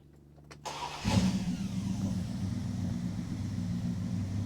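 A Dodge Charger's inline six engine cranks briefly and catches, then settles into a steady, rumbling idle close by.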